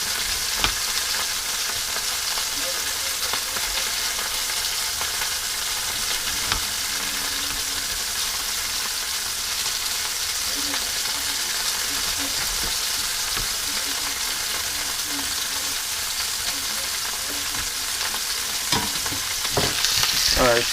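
Meat for an oven pot roast or stew frying in a pan, a steady continuous sizzle with faint crackles and occasional clinks, running alone without any talking.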